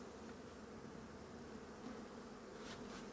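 A dense, steady buzz of many honeybees during a varroa mite check at a hive, close and continuous, with no voices.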